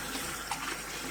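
Tap water runs steadily into a sink while chicory leaves are rinsed, a soft continuous close-up splash with a brief brighter spatter midway and no talking.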